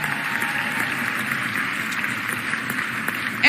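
An audience at a mayor's State of the City address applauds steadily, a dense, even patter of clapping that holds at a constant level throughout.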